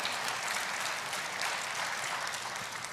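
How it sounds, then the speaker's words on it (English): An audience applauds panelists after a talk on family conversations, a soft, steady patter of many hands heard at a distance for a few seconds. "can we have a big round of applause for our panelists for what they've shared today?"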